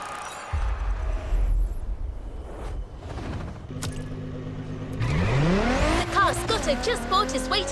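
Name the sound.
1,000 horsepower Camaro engine in video game The Crew Motorfest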